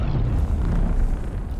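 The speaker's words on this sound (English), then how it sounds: "Could you guys chill a little bit with those explosions, please?" A heavy, rumbling boom from an in-game explosion in Dune: Awakening rolls out for over a second, dense and loud in the low end, then slowly eases off.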